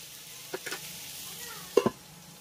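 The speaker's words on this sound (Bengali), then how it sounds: "গ্যাসের আঁচটাকে মিডিয়াম হাইতে রেখেই এইভাবে একটু ঢাকা চাপা দিয়ে দিয়ে ভেজে নিতে হবে" Raw papaya and potato frying in a covered pan over a medium-high gas flame, with a low steady sizzle and a few brief stirring or lid clatters, the loudest pair near the end.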